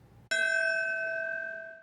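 A memorial bell in Lower Manhattan on the 9/11 anniversary is struck once, sharp and loud, then its bright ringing tone hangs and slowly fades with no voices over it.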